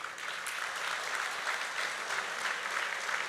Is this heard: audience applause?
yes